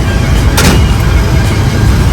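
Road traffic on a busy highway near Saptashrungi Gad in Nashik, a continuous loud rumble of cars and heavier vehicles with one closer whoosh of a vehicle passing midway.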